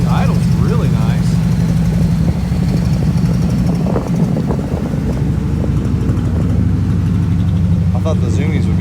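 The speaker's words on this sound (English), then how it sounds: "She idles really nice." Old project car's engine idling steadily and loud throughout, with a rough low rumble, wind buffeting the microphone, and a person talking over it.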